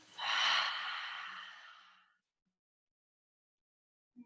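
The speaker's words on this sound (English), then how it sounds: "take a deep in-breath through your nose. And a full exhale out your mouth" One full, breathy exhale out through the mouth during a slow yoga flow, close and soft, swelling quickly then tapering over about two seconds into silence, with a faint brief sound at the very end.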